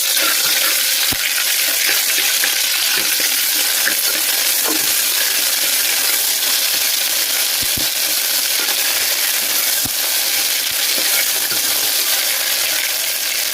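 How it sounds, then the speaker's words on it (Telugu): Ginger garlic paste frying in a cooker, a loud steady sizzle with occasional sharp clicks and scrapes from stirring. "ఈ విధంగా వేగనిద్దాము. అల్లం వెల్లుల్లి పేస్ట్లో పచ్చివాసన పోవాలండి."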